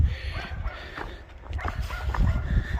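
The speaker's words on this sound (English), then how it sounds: "dogs down at the river enjoying it to the max, it sounds" Dogs bark and yip in the distance by a river in the Teign Gorge, Devon, over a steady outdoor rumble, their calls faint and scattered through the background noise.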